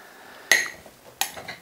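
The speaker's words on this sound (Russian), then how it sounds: "Значит, передавливаю смородину." A spoon pressing blackcurrants by hand in a bowl for a homemade liqueur, giving two sharp, close metallic clinks about a second apart in a quiet setting.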